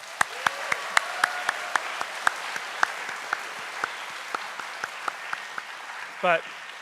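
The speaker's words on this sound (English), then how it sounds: "please give her a huge round of applause" An audience at an FRC robotics kickoff ceremony in Atlanta applauds, a dense wash of clapping crowd with a few sharp individual claps standing out, plus a brief burst of another sound near the end.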